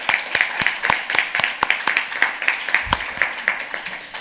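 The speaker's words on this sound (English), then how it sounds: "but they all deserve an applause" Audience applause at a gender equality event, with fairly even rhythmic clapping from a modest group, moderately loud and steady throughout with no talking over it.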